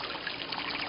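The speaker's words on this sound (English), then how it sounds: "I hear the water." Water trickles steadily outdoors, a soft continuous burbling wash heard alone and fairly faint throughout.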